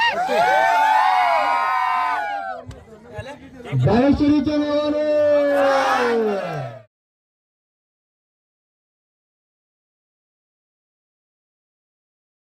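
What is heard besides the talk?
crowd cheering at a cricket league prize ceremony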